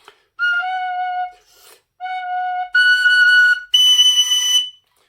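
Tin whistle notes in the third register played with forked fingering, sustained clear tones in a sequence of about four held notes, each higher than the last, with brief gaps between them, close and solo.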